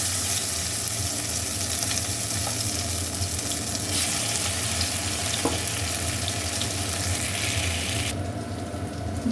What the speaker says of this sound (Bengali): এখন একটা একটা টুকরো আমি তেলে ভেজে নেব